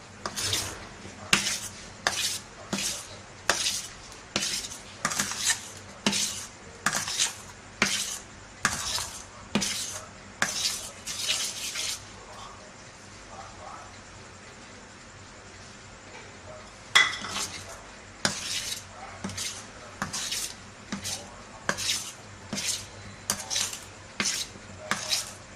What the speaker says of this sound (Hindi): आहिस्ता आहिस्ता हाथों से इस तरह हमें एक ही साइड इसको घुमाना है।